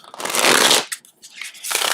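A Mystical Shaman Oracle card deck being riffle shuffled up close, a dense papery burst of flicking cards followed by quick taps as the deck squares up, then a second shorter riffle.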